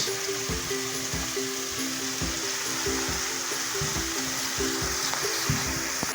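Onions sauteing in a pan while making vegan stuffed squash give a steady, even sizzle that runs the whole time, with a low humming tone and faint clicks of stirring underneath.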